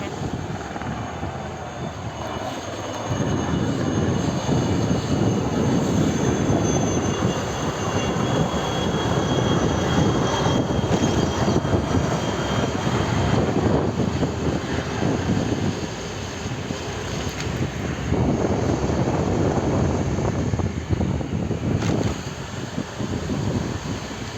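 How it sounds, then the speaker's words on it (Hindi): Helicopters flying overhead in the morning beside a railway area, a loud, continuous rotor and engine roar that holds steady for the whole stretch, close and dominant. "आज सुबह सुबह ही हेलीकॉप्टर भी चल रहे हैं"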